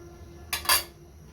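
A lid set down on a cooking pot of drumstick (sajna) curry gives one short clattering clank with a quick double impact, close and fairly loud, then quiet kitchen background.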